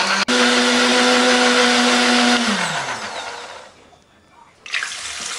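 A blender grinding spice paste with added water whirs loudly and steadily, then winds down and stops, followed by a short burst of sound as it restarts.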